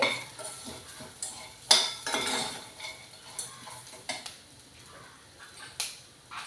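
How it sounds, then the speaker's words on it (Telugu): Curry leaves and ivy gourd frying in a pan, heard as irregular metal spatula scrapes and clinks against the pan over a faint sizzle, close by and without speech. "కరివేపాకు కూడా వేసేసుకోవాలి పక్కన ఉంచుకున్నాం కదా వేయించుకొని ఇవన్నీ ఒక రెండు నిమిషాల పాటు వేయించుకోవాలి"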